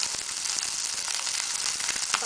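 Vegetables hit a hot pan and sizzle loudly and steadily, a bright, crackling hiss with small pops that continues throughout at close range.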